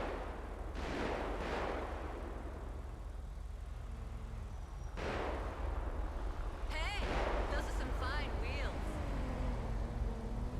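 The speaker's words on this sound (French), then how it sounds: "Ça tire aux pompes." Gunfire near the pumps in a GTA roleplay game, several sharp reports with a loud burst midway over constant background rumble, then an engine whining while people talk.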